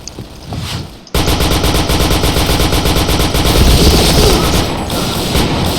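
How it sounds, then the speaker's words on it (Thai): Rapid automatic gunfire in the video game PointBlank, loud and continuous after a short lead-in, with sustained bursts and sharp impacts layered over each other for several seconds. "โอ้ยิงรัวนะครับ"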